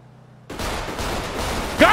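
Gunshots in the video game GTA start abruptly after a half-second of near silence and go on as a dense, loud wash, with a voice cutting in near the end.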